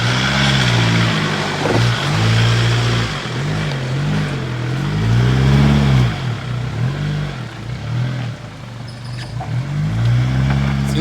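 A Nissan Patrol 4WD engine, fitted with new wheels and a rear bar, climbs a dirt track, loud and close, revving up and down in repeated surges with the pitch rising and falling continuously.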